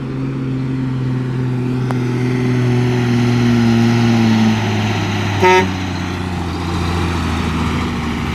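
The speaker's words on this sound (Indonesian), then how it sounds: "ini kita lihat truk yang membawa tanah timbunan" A truck hauling fill soil for toll road embankment work drives along a rural road with a steady engine rumble, and a short horn toot sounds midway.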